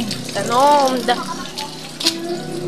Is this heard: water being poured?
yes